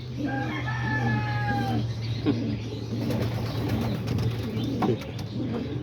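Pigeons cooing and clucking steadily in a loft housing adults with newly hatched chicks, with a constant low hum underneath and a few faint bird calls early on.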